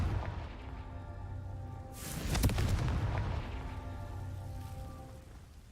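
Fiery explosion from the Confringo spell in the Hogwarts Legacy video game, a sudden loud burst followed by a rumbling, crackling decay over several seconds against a steady game ambience.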